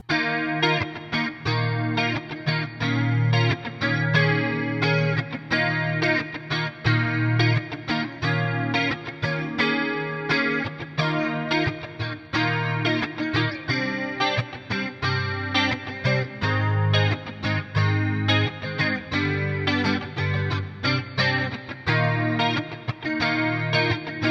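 Electric guitar, a Gibson SG, through a Roland JC-22 amp with a shimmering dimensional chorus effect and slight grit, strummed chords and picked notes playing continuously and loud.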